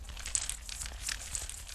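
Soft crinkling and rustling of a crumpled Bible page, washed in delay and reverb so it sounds distant and airy, like wind stirring dry leaves.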